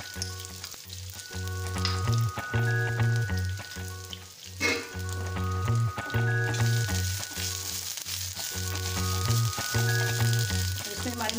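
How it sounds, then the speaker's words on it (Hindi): Ginger paste and spices, with a little nigella seed, frying in hot oil while being stirred for a shahi kachori chaat. A steady sizzle runs throughout beneath a louder, rhythmic music bed. "इसको ऐसे चलाते हुए थोड़ा अदरक वाला पेस्ट डालेंगे"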